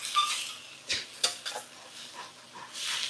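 Lobster with scallion and ginger stirred in a pan, with soft scraping and clinks of a utensil against metal, a few distinct strokes over a quiet background with no talk.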